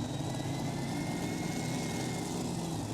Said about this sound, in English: Here we go, our super modified tractors.